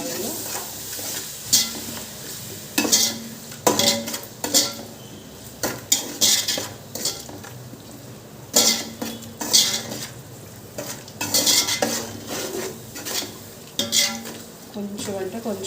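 Ingredients for coconut biryani fry and get stirred in a pan: a steady close sizzle broken by repeated sharp metal spoon scrapes and clanks against the pan in irregular bursts, loud and mostly alone.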